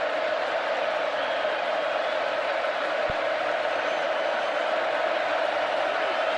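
Steady roar of a stadium crowd at a college football game between Alabama and Texas A&M, a continuous loud wash of massed voices with no distinct cheers standing out.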